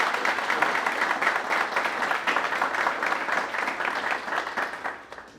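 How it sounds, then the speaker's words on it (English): An audience applauds a guest at a conversation event, a sustained burst of dense clapping that holds steady and then fades out near the end. "let's first start by giving him a round of applause for coming in and being here with us"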